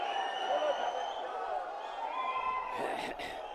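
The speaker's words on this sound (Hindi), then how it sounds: "जोरदार तालियों से स्वागत कीजिए" An outdoor political rally crowd claps and cheers as Punjab Chief Minister Bhagwant Mann is welcomed on stage. The applause is moderate and ongoing, and a voice speaks into the microphone over it.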